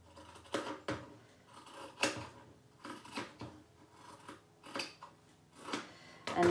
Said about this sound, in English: Trim off all these little tassely bits.